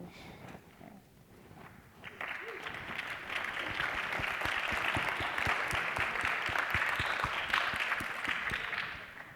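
Applause from a seated audience at a leadership summit swells after a quiet start and holds as a steady, dense clatter of many hands, with a faint voice underneath near the beginning.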